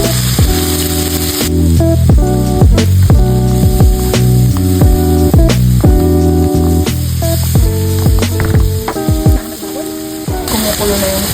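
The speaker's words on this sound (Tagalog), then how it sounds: "Kumukulo na yung tubig." Water boiling in a pot on a home stove, a steady bubbling sizzle with repeated clattering and knocking close by, loud and continuous throughout.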